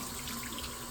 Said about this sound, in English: It's not very hard to clean, so I'm just gonna rinse it off real quick.